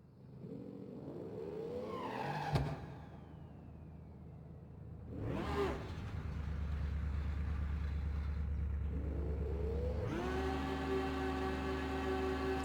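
A Ford GT500 drag car engine revs on a two-step launch control, building from a rising roar into sharp blips and then a loud, sustained, steady drone held near the listener without talk.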